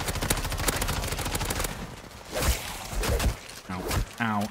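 Rapid gunfire from MW3 Zombies fills the first two seconds as a dense burst, followed by scattered single shots and impacts, with someone talking over the action.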